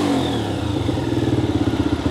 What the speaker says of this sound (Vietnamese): đang nổ máy luôn, máy rất là êm nha